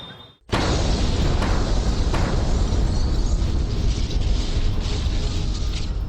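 A sudden loud bomb explosion erupts after a brief quiet moment in a crowded city area, followed by a sustained roaring, rumbling wash of noise that persists.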